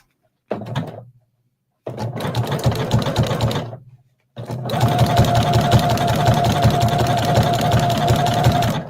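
A sewing machine stitches appliqué onto a beach towel in three close, loud runs: two short bursts separated by pauses, then a long steady whirring stretch with a rapid mechanical rhythm.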